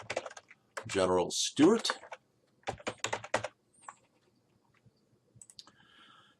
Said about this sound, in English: And I'll just type this one in.